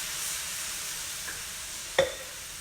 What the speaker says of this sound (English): y'all can probably hear it sizzling